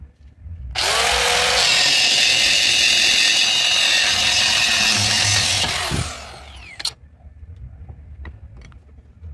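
A power cutting tool slices through the side of a truck's twin I-beam front suspension, a loud continuous grinding whine lasting about five seconds before winding down, followed by a sharp clank and quieter shop noise.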